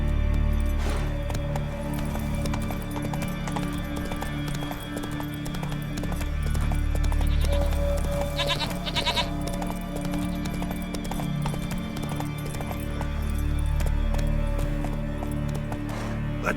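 Horse hooves in The Witcher 3 clip-clop at a steady gallop throughout, close and continuous over a low ambient bed of game sound, with a short whinny partway through.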